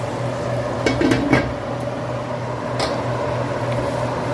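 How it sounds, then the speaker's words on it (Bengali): A metal lid clatters onto a pot of simmering rohu fish curry, making a short cluster of clinks and knocks over a steady kitchen hum, then the hum carries on alone. "চাপা দিয়ে দিচ্ছি"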